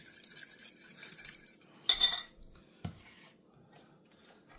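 A spoon clinks and scrapes against a bowl as vinegar and soy sauce are stirred together for a salad dressing, a short cluster of light taps followed by near silence.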